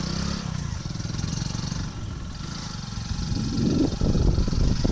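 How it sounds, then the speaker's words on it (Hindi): A vehicle engine idles with a steady low rumble on a quiet road through a forested park area in the Dhamtari–Kanker region, swelling slightly louder near the end. "गाड़ी का आवाज़ कम हो तो"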